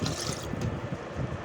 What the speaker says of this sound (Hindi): थोड़ा सा पानी और डाल दूंगी इसमें,